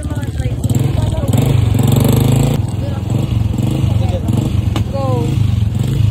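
Motorized tricycle engines in Boracay putter and rev steadily nearby, a loud continuous motor drone with people talking over it.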